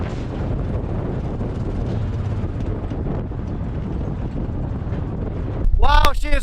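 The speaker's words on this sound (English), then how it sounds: "Wow, she is really breezy out." Strong, gusty wind of about 20 mph sustained buffets a microphone outdoors on a cattle property, a constant loud roar that swells near the end.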